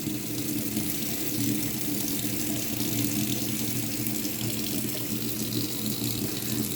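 Hot water runs steadily from a tap fed by a Clage MCX4 instantaneous electric water heater set near 38 degrees, a constant close rushing flow of about two litres per minute with no voices.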